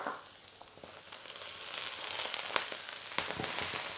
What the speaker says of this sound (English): Brussels sprouts are going to go in first with your garlic and ginger